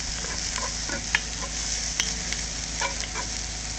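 Onions fry with a steady, dense sizzle in a pot while a utensil scrapes and stirs now and then. The cooking is close and continuous, and no one speaks.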